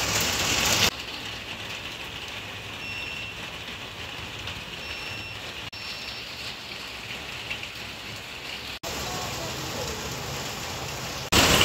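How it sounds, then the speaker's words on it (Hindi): Steady heavy rain falls throughout in a city setting, a dense continuous hiss with brief gaps in the middle; a voice speaks faintly over it. "बड़ी तेज खतरनाक हो रही भैया बारिश"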